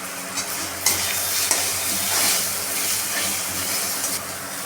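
Turmeric powder stirred into cabbage frying in a pan for bandhakopi chochori, with a steady close sizzle and scraping stir strokes, and a few sharper clacks of the spoon against the pan.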